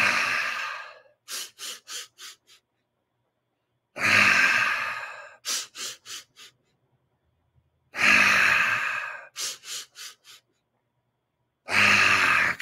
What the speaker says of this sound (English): Continue breathing, all that tingling in your face, your hands, your head.